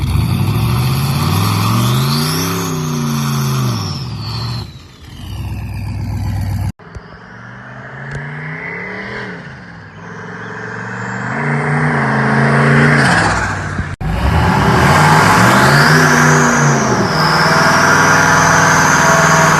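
A drag car with its rear end changed to 3.73 gears launches down the track, the engine revving loud and hard through several rising and falling sweeps as it shifts, heard close and continuous.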